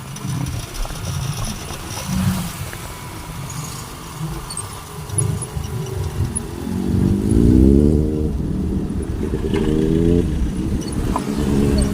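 A motorcycle rides along a rough, bad road in the Philippines, its engine running steadily throughout and swelling louder toward the end, with bumps and rattles in the mix.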